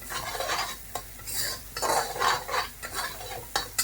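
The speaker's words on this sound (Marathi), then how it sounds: "असं मस्त पैकी आहे आपण परतून घेऊ" Fish sautéing in a pan with onion and black masala for a spicy fish curry, a steady close sizzle under repeated scraping strokes of a spoon against the pan.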